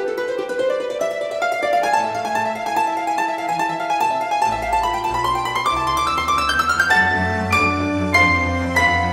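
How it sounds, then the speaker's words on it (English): Violin arpeggio from the Hollow Knight soundtrack, heard alone as a rapid, continuous run of rising notes that climbs steadily, with a low bass entering midway and sharper accented notes toward the end. "That crazy thing that the violin was doing, that's called arpeggio, and if you take it by itself, it sounds something like this."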